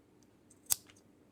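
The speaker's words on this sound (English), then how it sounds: "Let's have a little test of the scissors." A single crisp snip from the small scissors of a Multper MP2049 multitool, a sharp close click with faint blade scrapes around it in a quiet room.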